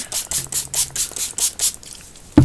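A rapid series of about eight short hissing bursts from a spray bottle of metallic amethyst paint in steady rhythm, close by, followed by a brief clunk at the end.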